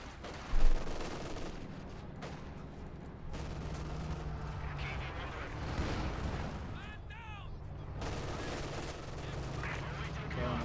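Machine gun fire in the real-time strategy game Company of Heroes 2 comes as sustained rattling bursts under a dense battle din of distant explosions, with commentary talk running over it.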